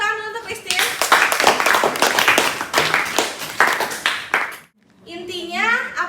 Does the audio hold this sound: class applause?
yes